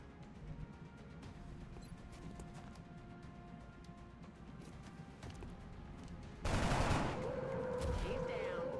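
Gunfire in XCOM: Enemy Within, a faint scatter of shots under a low game ambience, then a loud sustained burst of automatic fire near the end.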